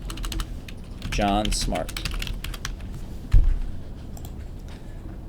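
Quick bursts of key taps on a computer keyboard, brief irregular clicks under a person speaking a short phrase, with a louder thump partway through.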